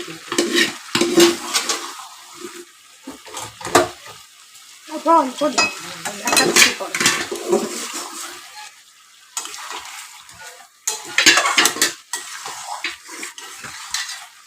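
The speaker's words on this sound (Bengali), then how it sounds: "এবার এই ডিমগুলো দিয়ে কষা করে" Eggs stir-fried in a pan with potatoes, stirring and scraping with a utensil over a steady sizzle, with bursts of clatter against the pan and short quieter pauses between them.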